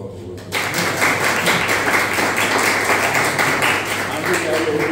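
Audience applause breaks out at a university anthropology and bilingualism class after a guest is introduced, a broad steady patter of many hands that starts abruptly and holds at a fairly even level to the end, with a voice faintly underneath.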